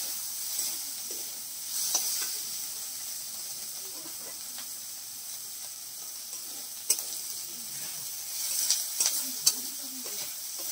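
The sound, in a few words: sautéing spinach and lentil mixture in a pan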